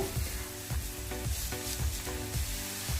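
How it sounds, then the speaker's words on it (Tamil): Onions frying in a pan for pepper chicken until golden brown: a faint, continuous sizzle with soft, regular thumps about twice a second, and no voices. "நல்லா வெங்காயம் நல்லா வதங்கி கோல்டன் ப்ரௌன் கலரில் வரணும்"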